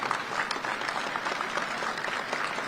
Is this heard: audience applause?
yes